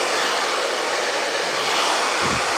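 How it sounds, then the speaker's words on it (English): A loud, continuous rushing whoosh of a blow dryer running close by, with a brief low thump near the end. "I'm going to take my blow dryer"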